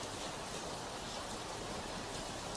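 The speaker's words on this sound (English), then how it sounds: "It's too cold to be out in this rain." Steady cold rain falls outdoors near a camp, a dense, even hiss that fills the whole short stretch with no voices.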